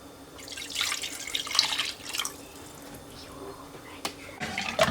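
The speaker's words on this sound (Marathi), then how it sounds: "थोडंसं पाणी घालूया" Water poured into a simmering fish curry with coconut milk in a pan, a few short bursts of splashing and trickling close by, followed by quieter gaps and a couple of sharp clinks.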